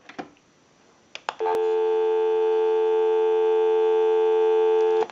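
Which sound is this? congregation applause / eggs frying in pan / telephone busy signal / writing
telephone busy signal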